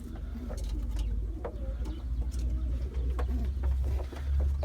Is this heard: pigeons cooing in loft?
yes